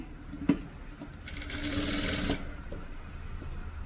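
A sewing machine stitches a neckline in a short, steady whirring burst of about a second, preceded by a small click, close by in a quiet room.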